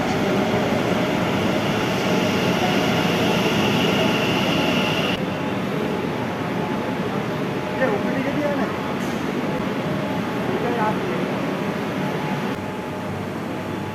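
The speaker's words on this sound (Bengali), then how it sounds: "ট্রেন এসে গেছে।" A metro train pulls into Sector 5 station with a steady, loud rumble and rail roar lasting throughout. The noise eases slightly partway through, and people talk over it.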